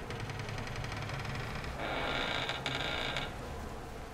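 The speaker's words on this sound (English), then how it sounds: "Door's loud as shit." Loud creaking door in the horror game Outlast, a sustained bright groan that swells mid-clip, breaks briefly and continues, over a steady background of ambient noise.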